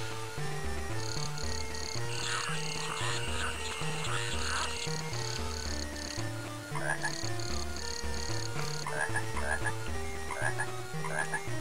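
A frog croaks repeatedly in the E.T. Game Boy Advance game, its looping croaks mixed into steady, bright chiptune background music.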